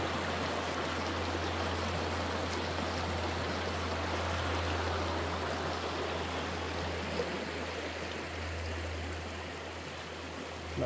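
Clear river water that horses cross, rushing and burbling steadily at close range, a broad even wash of flow with no voices.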